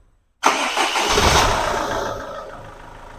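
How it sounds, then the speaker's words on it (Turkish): A SsangYong Actyon Sports with a 2.0 engine, just after an injector overhaul, cranks and catches on the first try. It then settles into a steady idle that stays loud and close with no talk over it. "Şimdi bir marşına basalım."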